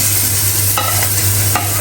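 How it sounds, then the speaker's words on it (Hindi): Fried potatoes and taro being stirred into sizzling masala in a pan, a loud continuous frying hiss with a few brief scraping strokes of a spoon, close up and without talk. "तो अभी मैं ऐड करूँगी आलू और अरबी जो मैंने फ्राई करके रखी हुई थी"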